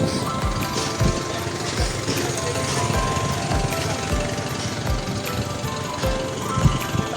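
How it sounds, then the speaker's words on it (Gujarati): An air compressor machine runs continuously while filling its tank with air, giving a steady, dense mechanical roar with regular low thumping pulses throughout. "ચાલુ કરી દીધું છે ભાઈ મશીન બાટલામાં હવા ભરાય પછી કપવું પડે"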